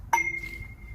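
A single bright metallic ping from a longer pipe rings out, then its tone lingers and fades with a steady, fairly low pitch.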